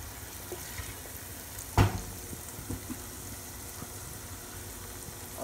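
Whole spices fry in oil for Lahori chickpeas with a low, steady sizzle. A single sharp clunk of a utensil stands out early on, followed by faint stirring taps.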